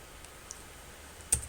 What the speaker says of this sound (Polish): klikamy w SQL